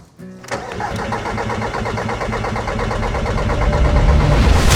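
A Volkswagen TDI diesel engine with a fault that leaves it unable to start is cranked by the starter in one long, loud, close churning run that builds steadily, with no voices.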